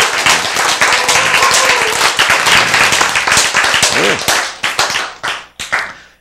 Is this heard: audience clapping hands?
yes